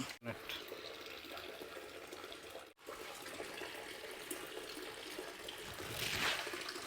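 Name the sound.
water flowing from grow bed back into fish tank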